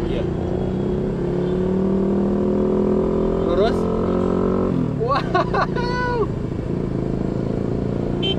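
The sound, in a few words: oldest Indonesian RI-1 presidential car driving, engine running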